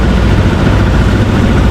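Two diesel engines on a small wooden outrigger fishing boat run at low throttle, a loud, steady, close-up rumbling drone with no breaks.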